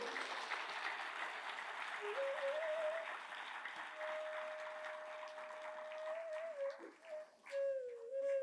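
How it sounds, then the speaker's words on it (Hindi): An audience at a spiritual gathering for the saint community of Rohtas district claps in a sustained, moderately distant wash of applause, while a voice sings or chants a held melodic line over it and fluctuates toward the end. "रोहतास जिला संत समाज के लिए एक बार सभी तालियों की गड़गड़ाहट करें"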